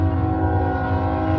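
A train rumbles past with a deep, sustained horn blast, the heavy tone steady and loud the whole way through with no voices.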